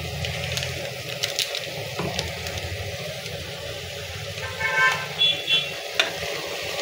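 Garam masala powder being stirred into mutton gongura curry with cooked-down tomatoes in a pan on the stove: a soft, continuous simmering sizzle with scraping stir strokes and a few brief clinks near the end.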